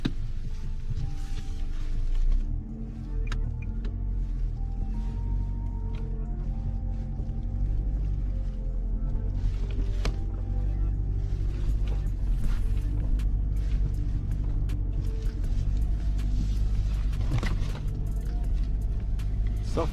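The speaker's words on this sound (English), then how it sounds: "Okay, I will be driving." A van drives along a beach road at Mustang Island State Park, its engine giving a steady, close, low rumble with road and tire noise throughout and no talking.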